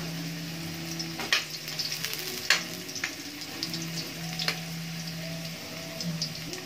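Carrots fry in a pan with a soft, steady sizzle. Faint crackles and a few sharp clicks of stirring come through over a low, constant hum.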